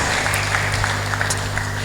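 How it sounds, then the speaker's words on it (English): A conference audience applauds briefly as someone speaker sits down, producing a dense, even patter of many hands over a low steady hum, with no distinct voices. "Another applause for her as she takes her seat"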